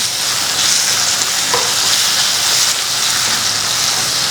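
Mustard seeds and fenugreek sizzle and crackle loudly in hot oil in a pan while being stirred, a dense steady frying hiss throughout with no speech.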